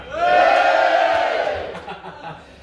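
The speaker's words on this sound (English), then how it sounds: "Give yourselves a cheer, go on!" Live podcast audience at a Piping Live 2022 show cheering and whooping together, a loud crowd swell that fades out over a couple of seconds.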